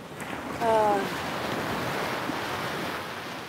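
Ocean waves wash steadily onto a beach in a continuous broadband rush mixed with wind, while a short, faint tonal chirp briefly rises near the start.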